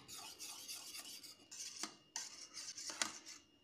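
Batter for patisapta, a Bengali sweet crepe, being whisked in a bowl, with repeated scraping and clinking strokes of a utensil against the bowl, close and fairly quiet, no talk.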